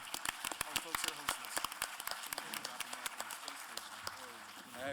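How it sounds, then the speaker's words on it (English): Applause at a memorial space symposium in Huntsville, many hands clapping in sharp, dense bursts, with talk running through and over the clapping. "let's have a long round of applause for Huntsville and all the folks that are"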